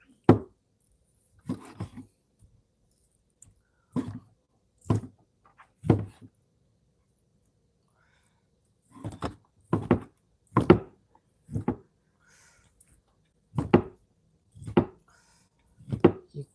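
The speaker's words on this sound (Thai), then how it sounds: "หั่นชิ้นควายก่อน" Buffalo meat is chopped into pieces on a board, with about a dozen sharp, distinct knife thunks at uneven intervals, some in quick pairs, separated by quiet pauses.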